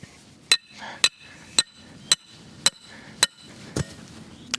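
A hammer strikes a metal drive rod into the ground for a boar blanket fence setup, seven sharp, evenly spaced metallic clanks about half a second apart, close and clear over a quiet outdoor background.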